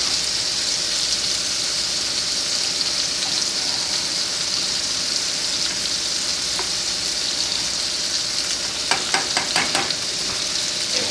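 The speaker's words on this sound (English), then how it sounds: "Stir up the fries." Homemade fries crackle in hot oil, a steady loud sizzle close up throughout, with a brief burst of stirring clatter toward the end.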